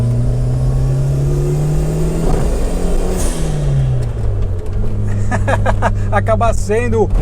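A turbocharged Fiat Uno Mille engine idles with a deep steady drone, then revs up as a rising turbo whine and whistle sweep upward near the end.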